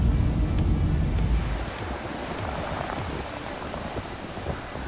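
Steady ocean surf washing ashore at the beach by the Gulf Shores pier, a broad continuous rush with wind buffeting the microphone, loudest in the opening second and then settling a little lower, with no voices.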